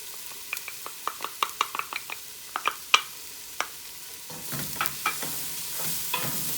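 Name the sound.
onion, garlic and spices cooking in a pot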